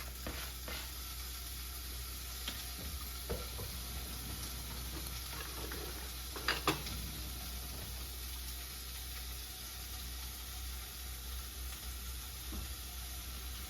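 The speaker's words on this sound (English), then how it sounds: "once you finish chopping your bacon, we'll throw it in the pan" Steady, crackling sizzle of bacon frying in a hot pan, with a few louder pops and spatters, close by and without talk.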